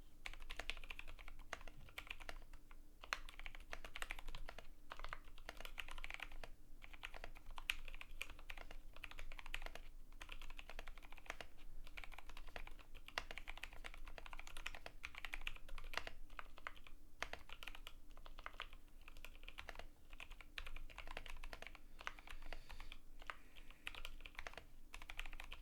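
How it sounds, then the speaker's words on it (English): Typing on a GMMK Pro mechanical keyboard fitted with a polycarbonate plate, a steady run of close, crisp keystroke clicks and clacks with no talking over it. "Oh, I'm so bad at typing."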